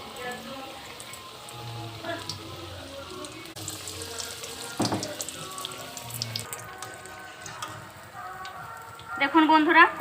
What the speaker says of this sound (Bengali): আমি সেই চপ ভাজা তেলে একটা একটা করে বেগুনিগুলোকে ভেজে নেব